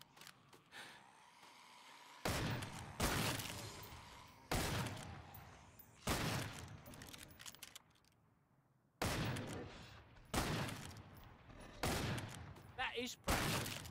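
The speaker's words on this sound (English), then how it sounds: "The old man can still shoot." Gunfire in the Killing Floor 2 video game on the FrostWorld map, coming in repeated loud bursts separated by short pauses, with gasps and game voices mixed in.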